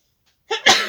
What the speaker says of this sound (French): Je vais éternuer, pardon.